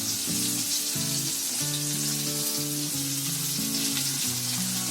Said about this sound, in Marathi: अशी मच्छी टाकून झाली ना तव्यामध्ये की अशी हलवून बघायची जरा